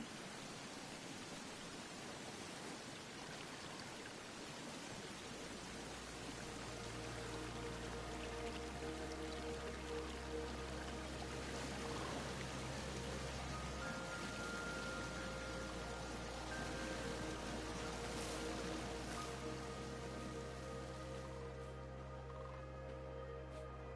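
A waterfall in the video game AER: Memories of Old rushes with a steady, broad roar that fills the whole clip, layered under soft sustained ambient music tones, with no talking.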